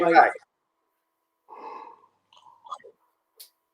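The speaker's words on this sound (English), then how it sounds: "I'm just going to yawn there, sorry." A short, breathy yawn at the start, then quiet murmurs and small mouth noises with long silences between.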